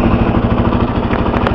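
A 1999 four-stroke dirt bike engine idles with a fast, steady, loud thumping pulse, close by and running alone without speech.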